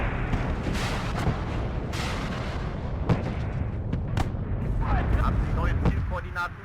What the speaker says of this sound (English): Yeah, that grenade launcher is not friendly.